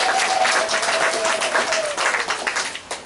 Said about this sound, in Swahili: Tumshangilie Mungu kwa makofi mengi na vigelegele.